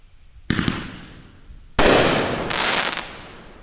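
Ghost mine shells from a 500g consumer fireworks cake burst in three sharp, loud blasts, each followed by a hissing, crackling tail, recorded outdoors nearby.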